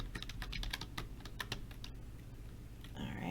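Typing on a computer keyboard in a laser-cutting design session, a quick run of close key clicks for about two seconds, then a pause and a brief fuller burst near the end.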